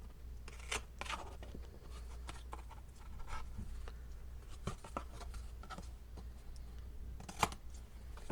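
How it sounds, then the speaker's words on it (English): Scissors trim excess paper from a homemade phone holder with a series of soft, irregular snips and rustles, close and fairly quiet over a low steady hum. "let's go ahead and trim this off, the excess"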